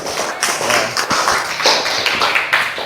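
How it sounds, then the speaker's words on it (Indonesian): Applause in a training session for teachers, a close, loud patter of several people clapping in uneven rhythm for about three seconds. "Ya, semua ya tepuk tangan untuk Mbak Kalina ya."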